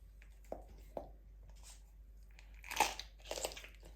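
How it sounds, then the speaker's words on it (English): Close, crisp crunching and cracking as a dog chews raw rabbit bones, a few separate bites and then a denser burst of crunches. "So that's what you want to hear. Crunching of bones."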